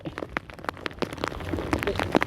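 Heavy rain at sea with strong waves, a dense close patter of drops striking a surface in rapid irregular taps, steady and loud throughout.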